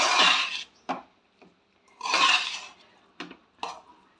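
A utensil stirs egg noodles in a pan, producing several separate bursts of scraping and clinking against the metal, separated by short quiet gaps.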